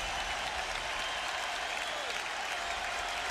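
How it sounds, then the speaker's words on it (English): A big crowd at Fenway Park rises to its feet in the ninth inning of a 1998 Red Sox baseball game, filling the air with a dense, steady roar of cheering and clapping that stays even throughout. "this big crowd here at Fenway Park comes to its feet"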